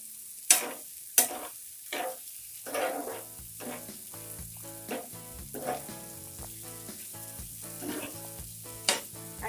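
Bhindi masala with salt sizzles and fries in a pan while a spoon stirs it, with sharp scraping clinks near the start and a steady close frying hiss throughout, no voices.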